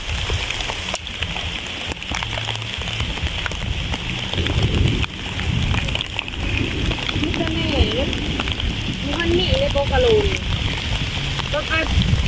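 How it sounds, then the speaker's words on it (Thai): Rain falls steadily outdoors, a constant hiss and patter heard throughout at moderate level, with people talking faintly underneath. "ฝนตกขน่อยด้วย"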